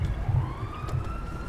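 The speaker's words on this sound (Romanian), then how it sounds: "mă urmărește poliția" Police siren in the video game Grand Theft Auto Online, a rising and falling wail heard at moderate distance over a low rumbling engine and game background noise.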